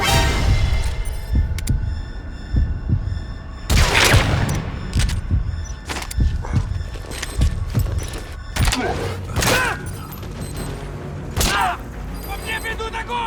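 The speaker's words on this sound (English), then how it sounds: "По мне ведут огонь!" Gunfire in Metal Gear Solid V: rapid bursts and single sharp shots crack out close and loud, with heavy booming impacts scattered across the scene and voices talking over the shooting.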